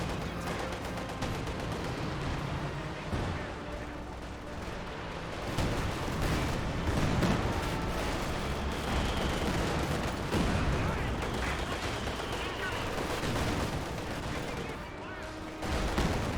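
Gunfire and shots in a Company of Heroes 2 battle, with dense overlapping bursts, rattling volleys and heavier booms from mortars and tanks sounding continuously, with a voice talking over the din.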